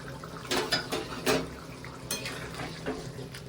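Tomato going into a pan of simmering rui fish curry, with a few sharp clinks and scrapes of a utensil against the pan over a soft bubbling background, all fairly close and with no talking.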